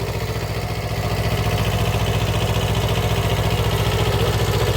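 A Kubota mini tractor on solid tires runs steadily while driving, its engine giving a loud, continuous, rhythmically pulsing drone that stays close throughout.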